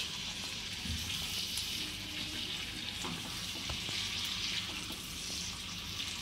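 Yellow and red capsicum with a pinch of salt and turmeric fry in a pan for crispy chilli baby corn, giving a steady, even hiss with occasional soft clicks of a stirring utensil.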